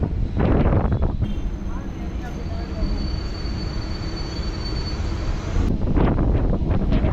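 A suburban train on the Chennai line from MGR Central to Pattabiram pulls into Perambur railway station, a steady loud rumble of wheels and carriage noise with wind buffeting, broken by brief voices at the start and end.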